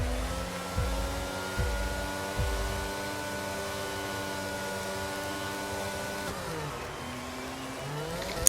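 An F1 22 race start has car engines whining as they accelerate: a few low thumps, then rising engine harmonics that climb and drop through gear shifts, fairly quiet and continuous.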